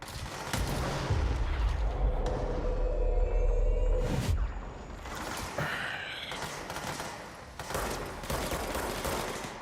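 Grenade blasts and gunfire in the video game Control, with a heavy booming explosion rumbling through the first four seconds, then scattered sharp shots and bursts of combat noise continuing throughout.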